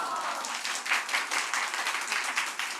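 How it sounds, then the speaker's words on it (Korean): A church congregation at a revival service claps together in a brief, even burst of applause, moderately close and without talk. "우리가 박수 쳐드리고 싶어요"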